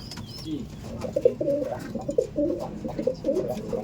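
Andhra pigeons at a loft where birds are sold coo steadily in a low, throaty, overlapping murmur, close by and continuous, with no talking.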